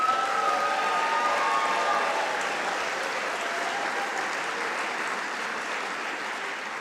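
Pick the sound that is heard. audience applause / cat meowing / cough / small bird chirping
audience applause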